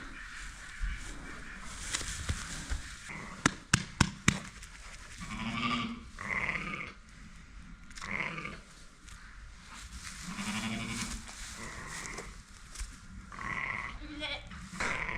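Lambs, including tiny and black lambs, bleating repeatedly during lambing season in a barn or pen, several cries at moderate distance, with people talking quietly in between.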